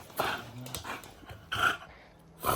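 An agitated dog gives short, close barks and whimpering yelps in quick bursts, with brief quiet gaps between them.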